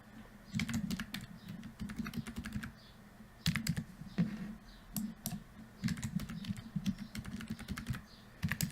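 Password typed on a computer keyboard, a run of quick clicky keystrokes in bursts with short pauses, moderately quiet and close, no talking.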